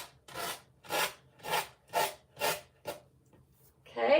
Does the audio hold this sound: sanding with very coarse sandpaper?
yes